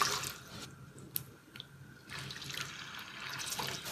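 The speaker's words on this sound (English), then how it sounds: "Add in this chicken soup into this pepper and the chili oil." Chicken soup poured from a pot into a wok of Sichuan pepper and chili oil on high heat, a soft liquid splash and trickle with a couple of faint drips, heard close and alone.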